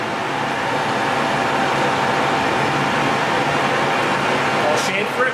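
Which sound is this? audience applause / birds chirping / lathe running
lathe running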